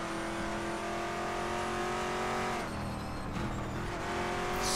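A race car engine in the RaceRoom Racing Experience game drones at a loud, steady high pitch, then drops and shifts briefly before climbing again.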